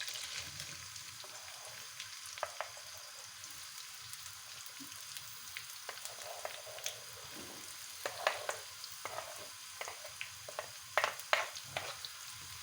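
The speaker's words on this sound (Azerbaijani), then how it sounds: "gördüyünüz kimi yağımız belə dağ olandan sonra soğanımızı əlavə edirik" Onions fry in hot melted butter for a tomato-egg dish, giving a continuous soft sizzle with scattered pops and crackles that grow livelier toward the end, and occasional light stirring scrapes.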